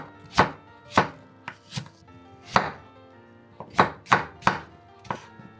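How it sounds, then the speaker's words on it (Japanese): A knife chops an apple into small pieces for a cake, about ten crisp, separate cuts landing close by in an uneven rhythm with quiet pauses between them, and no voices. "残りの半分はケーキの中に入れるリンゴなので小さめに切ります。"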